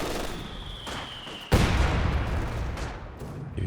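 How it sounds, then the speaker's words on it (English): A heavy mortar fires in a strategy game match, a sudden loud boom partway through followed by a rumbling decay and scattered distant battle noise beneath. "Heavy mortar getting to work up there in the north this time"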